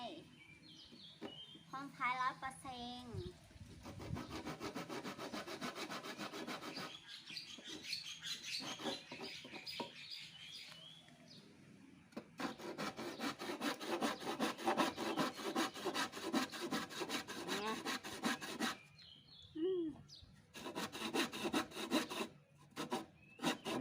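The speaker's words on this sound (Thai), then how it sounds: "ลื่อยใหญ่ๆ ก็ไม่มาใช้ เอาเลื่อยเล็กมาใช้ เลื่อยเล็กก็ดีแล้วขนาดมือ" A small hand saw cuts through wood with rapid, rhythmic rasping strokes in long bursts separated by brief pauses. A voice and faint birdsong are heard in the background.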